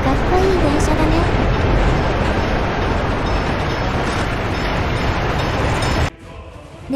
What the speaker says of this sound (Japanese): EN57 にします。 春野から西春野までに結ぶ列車を電車に置き換えました。